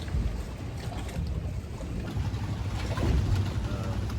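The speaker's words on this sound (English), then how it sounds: "It's rough. Waves coming in over here across the break wall." Rough sea surges and washes against a harbour break wall, heard as a continuous low rumble mixed with gusty wind noise buffeting the microphone, steady and fairly close.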